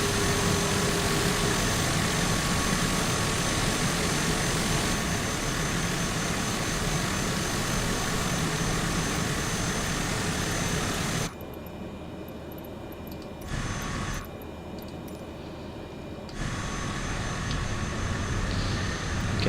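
Jet engines of an airliner spool up for takeoff in a flight simulator game, a loud steady broadband roar that cuts out briefly twice near the end before resuming.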